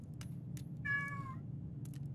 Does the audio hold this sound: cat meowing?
yes